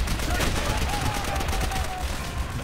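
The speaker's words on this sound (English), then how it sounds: "Who's even firing at me now?" Dense, continuous gunfire from Call of Duty: World at War, set in the Heart of the Reich mission, roaring steadily throughout without pause, with a faint whistling tone drifting through the middle of the barrage.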